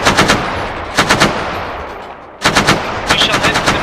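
Gun turret firing in a military video game, several rapid bursts of automatic fire, loud and close, with a short pause before more bursts resume.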